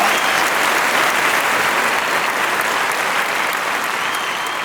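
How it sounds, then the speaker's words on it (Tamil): Loud, steady applause from an audience at a Tamil stage event with top heroines on stage, dense clapping that fills the clip evenly and fades only slightly at the end. "ஒரு பலத்த கைத்தட்டல் கொடுக்கலாம்."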